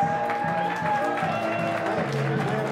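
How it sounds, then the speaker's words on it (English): Applause from an audience of finalists and guests at a glass art awards ceremony, steady crowd clapping throughout with voices and chatter mixed in. "big round of applause for all the finalists"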